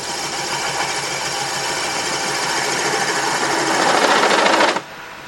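A wood lathe shakes and rattles during offset turning of a duck figure, a steady loud vibrating drone with a dense rapid chatter that swells toward the end before cutting off abruptly.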